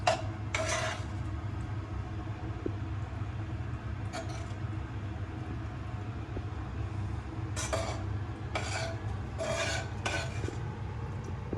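Mushrooms are added to a pan for a sweet potato and goat cheese dish, with a low background hum and intermittent scraping and clinking bursts from stirring with a spoon, fairly quiet overall.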